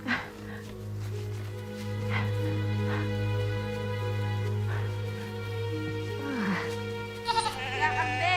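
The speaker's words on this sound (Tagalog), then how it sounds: "Kambing po, kuya! Kambing!" A goat bleats several times against a steady low hum and background noise in a period drama scene, the calls wavering and fairly close, with faint voices around them.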